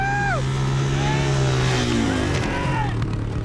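A motocross motorcycle engine revs hard nearby at a Nitro Circus jump session, its pitch climbing and sliding through quick shifts, a loud continuous whine.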